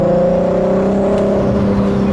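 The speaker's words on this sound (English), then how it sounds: "I love that noise this turbo makes" A steady high turbo whistle rides over a running turbocharged Audi A3 3.2 engine making 515 horsepower, held tones persisting throughout at close range.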